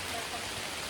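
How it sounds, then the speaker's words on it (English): Steady rain falling on a forest trail in Highlands, North Carolina, a dense even hiss close around, with no talk. "Again, it's still raining."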